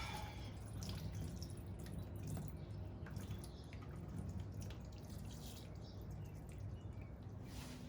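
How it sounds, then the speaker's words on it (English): Old oil mixed with water drains out of a car engine during a JDM engine swap, a faint stream of irregular drips and trickling splashes close by. "And here comes the oil."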